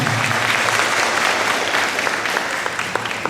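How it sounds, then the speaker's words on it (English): A large audience at a Hmong business gathering breaks into a loud, sustained round of applause for a woman being honored, dense clapping filling the room steadily from start to finish. "give a round of applause for her"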